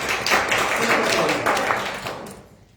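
A classroom of students claps in a short burst of scattered applause, close and lively, tapering off after a couple of seconds.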